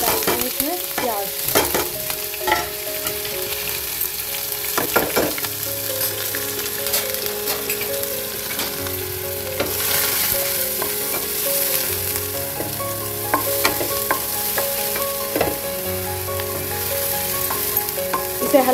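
Onions and cumin seeds fry in hot oil with a steady close sizzle and crackle, broken by a few sharp stirring clinks and scrapes over the pan. A low hum runs underneath, and nobody speaks.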